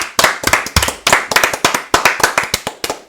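A round of clapping from a small group on a sports talk show, loud and close, with distinct sharp hand claps in an irregular burst lasting a few seconds, no voices over it.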